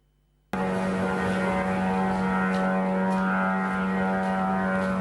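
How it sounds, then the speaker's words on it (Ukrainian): After a moment of quiet, a loud, steady droning engine roar of a Shahed drone sets in and holds constant, passing low over a residential district of Dnipro. "Звук шахеда, що летить просто над житловим кварталом Дніпра."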